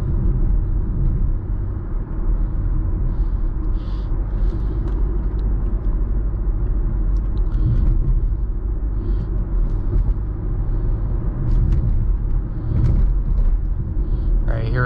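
A 2017 Porsche Macan Turbo SUV on the road, heard as a steady, loud low rumble of engine and tyres from inside the cabin that runs the whole time with small swells.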